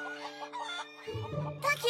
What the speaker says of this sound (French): Fluttershy, tes poules se sont enfuies.